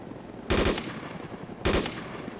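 Two loud bursts of automatic gunfire in the survival video game DayZ, each a rapid cluster of shots about a second apart, standing out over steady background game ambience.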